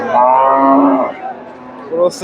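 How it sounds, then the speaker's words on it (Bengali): A crossbred dairy cow moos at a cattle market in Chandaikona. One loud, close, drawn-out moo is followed by a shorter, lower call, then a brief noisy burst at the end. "ক্রোসের গাভী আর বোকনা বাচ্চা"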